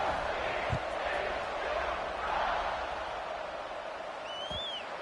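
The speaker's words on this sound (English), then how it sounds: "this crowd is feeling themselves after that last drive" A college football stadium crowd at an SMU versus TCU game roars steadily at kickoff, a broad, distant wash of cheering that runs under a commentator's talk throughout.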